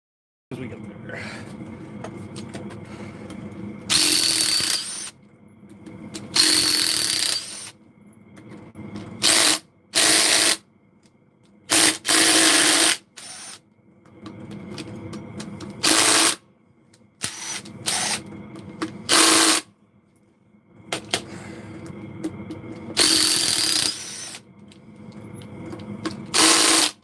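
A roughly seven-year-old Harbor Freight Bauer impact driver removing screws, with repeated loud bursts of hammering whir, each lasting a second or so, separated by quieter gaps of handling noise and occasional talk.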